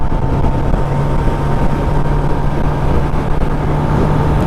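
Steady, loud engine and wind roar from a Kawasaki ZX-10R superbike cruising on an Indian highway on a long-distance endurance ride, constant throughout with no speech.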